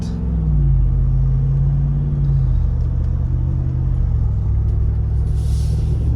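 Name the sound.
Jeep Wrangler Hemi 392 engine while shifting gears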